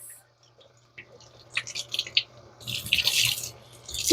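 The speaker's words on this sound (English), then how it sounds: "Rinse that water that they were sitting in the can with for a while." Tap water runs while canned butter beans are rinsed, heard as faint drips at first, then a louder splashing, hissy stream in a sink near the end.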